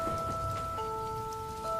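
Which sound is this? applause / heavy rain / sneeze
heavy rain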